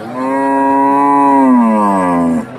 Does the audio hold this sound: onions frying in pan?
no